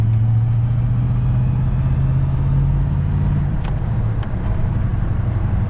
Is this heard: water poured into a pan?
no